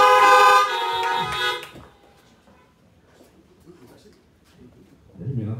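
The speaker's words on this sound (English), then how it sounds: "Give the Lord a honk of praise." Several car horns honk together, loud and close, at a drive-in church service in a parking lot, then fade to quiet murmuring before a voice begins speaking.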